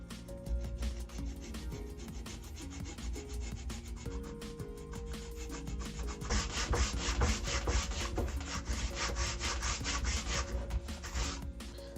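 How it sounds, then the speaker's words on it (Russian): Wood being sawn by hand with a jigsaw blade, cutting a kerf about 7 mm deep down the centre of a small workpiece; steady rasping strokes run close and continuous, growing louder and brighter in the second half. "Теперь где-то на глубину 7 миллиметров сделаем пропил по центру."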